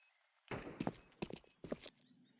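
Heavy footsteps stomp through a competitive Counter-Strike match on the Anubis map, coming in three clustered bursts of thudding, clattering steps over a steady game ambience.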